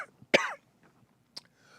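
A man gives a short, sharp cough followed by a smaller throat-clearing hack, close and isolated between brief quiet gaps.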